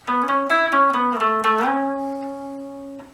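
Electric guitar playing a lead phrase from a solo, a run of clear plucked notes with a bend that settles into one long sustained note, close and alone.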